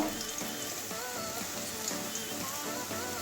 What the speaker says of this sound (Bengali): কাঁচা গন্ধ যাওয়া পর্যন্ত ভাজবো গাজর আলু আমার ভাজা হয়ে গেছে